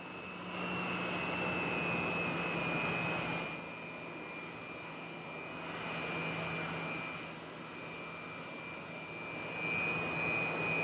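A Sukhoi Su-27 jet taxiing in the DCS World flight simulator gives a steady, loud turbine roar with a sustained high whine and low hum, swelling and easing gently as it rolls along the taxiway.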